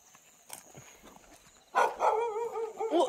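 A dog barks and yelps at mid distance on a country village walk, a burst of loud calls after a quieter stretch of outdoor ambience.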